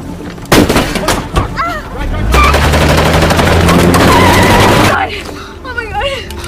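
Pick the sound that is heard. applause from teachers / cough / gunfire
gunfire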